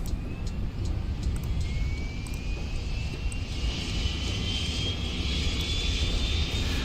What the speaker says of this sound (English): we can jump out here and listen to the APU spool up